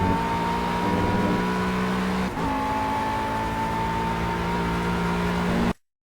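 A McLaren MP4-12C at full throttle on Laguna Seca in the Project Cars racing game, a loud, steady engine drone that rises in pitch through a gear change, then cuts off abruptly.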